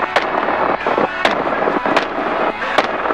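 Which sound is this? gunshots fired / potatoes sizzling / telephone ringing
gunshots fired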